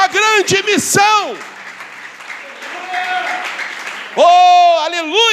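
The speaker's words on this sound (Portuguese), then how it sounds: "Você pode aplaudir o Senhor, irmãos, com força" Church congregation applauding during a sermon, a broad even wash of clapping between stretches of loud, emphatic preaching that comes before and after it.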